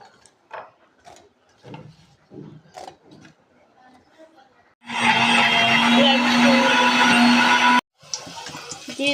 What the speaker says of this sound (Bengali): দিয়ে দিচ্ছি শুকনা মরিচ, তার সাথে রসুন আর পেঁয়াজ। এটা আমি ব্লেন্ড করে নিব।